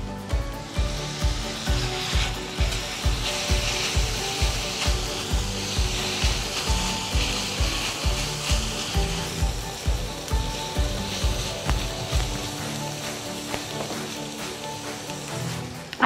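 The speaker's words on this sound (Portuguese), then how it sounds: "E agora eu vou voltar a carne e o bacon para a panela" Beef and bacon sizzle steadily in a hot pan, with a regular thumping or scraping rhythm repeating about every half second until it fades near the end.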